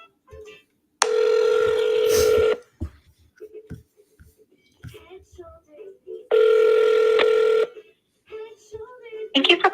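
An outgoing telephone call to a real estate office, with two long, loud ringback tones separated by a pause and short faint sounds between them, no talk over the rings.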